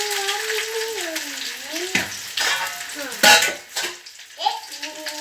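Koddai fish sizzles in hot oil in a pan, a continuous frying hiss with a few clatters from utensils, while someone talks over it.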